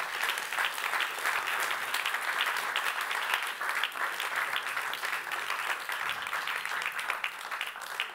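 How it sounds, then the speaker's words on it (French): Sustained applause fills a plenary awards ceremony hall, a dense, steady wash of many hands clapping at moderate volume throughout, with no voices standing out. "sous vos applaudissements"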